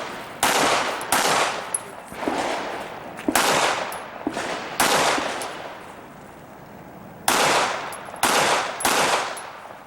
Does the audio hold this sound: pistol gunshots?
yes